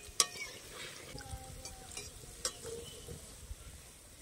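Pantua sweets fry in oil over medium heat with a steady sizzle and soft crackles, and a spoon clinks and scrapes against the pan a few times. No talking.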